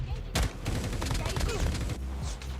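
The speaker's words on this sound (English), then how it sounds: "Gunshots below." Gunfire in a battle royale video game, rapid bursts of shots over a low rumble, with a caster talking over the action.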